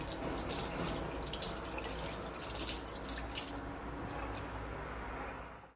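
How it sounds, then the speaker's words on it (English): Hands being rinsed under a running tap after washing with a dish wash bar, a steady close rush and splatter of water that continues throughout. "Okay, I'm going to try rinsing off."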